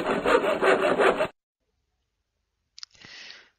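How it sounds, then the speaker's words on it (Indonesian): Wood is sawn with a hand saw in a short burst of rapid, raspy back-and-forth strokes, close and fairly loud. Silence follows, then a few fainter scraping strokes. "Misalnya menggergaji kayu."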